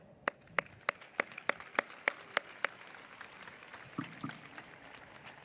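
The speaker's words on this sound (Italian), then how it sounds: "Grazie davvero e un sentito applauso." Clapping at a university graduation ceremony: a single set of regular, evenly spaced hand claps for about two and a half seconds, then fading into quieter scattered sounds and low room noise.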